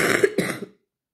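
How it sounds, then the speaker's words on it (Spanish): A single short cough from someone with a lingering illness, close and clear, over in under a second, followed by silence. "Lo peor es la tos que sigue persistiendo"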